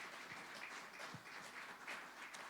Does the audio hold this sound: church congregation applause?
yes